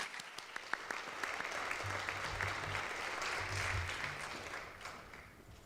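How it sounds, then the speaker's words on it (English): Sustained crowd applause at a graduation ceremony, dense clapping from an audience that swells and holds steady for several seconds, with a faint voice in the background. "Let's have a big round of applause for Mr."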